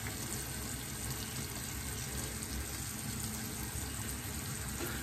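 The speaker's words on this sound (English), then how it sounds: "Get some water back on my face here." Tap water running and splashing steadily during a wet shave, a continuous close gush of water filling the whole moment with no speech.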